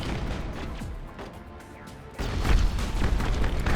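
A grenade explosion in a video game, a deep boom that swells into a louder rumbling blast about halfway through, with lingering crashing debris.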